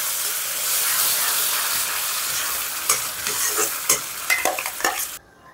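Tomato puree hits hot oil with frying spices, including cardamom, in a pan: a loud steady sizzle, then sharp spattering and stirring bursts before it suddenly quiets.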